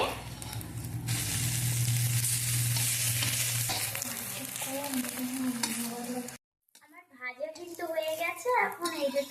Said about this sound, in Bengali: দুটো ভেজে নিচ্ছি এগুলো কিন্তু খুব হালকা হয় একটু সাবধানে ভেজে নিতে হবে